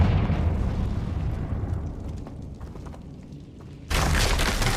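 A spell-triggered explosion in the Hogwarts Legacy video game: a heavy booming blast that rumbles and fades over a few seconds, followed by a sudden burst of bright crackling debris noise.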